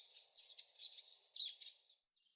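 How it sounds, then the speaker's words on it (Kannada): Birds chirping in the morning, a steady stream of thin high tweets and calls with brief pauses, fairly faint and alone with no talk. "ಹಕ್ಕಿಗಳ ಚಿಲಿಪಿಲಿ ಶಬ್ದ."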